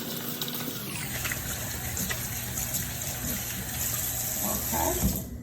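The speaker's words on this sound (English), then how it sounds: "Now I'm going to wash my hands really good." Tap water runs steadily into a sink during handwashing in a kitchen, a constant close rush of water with faint clattering near the end.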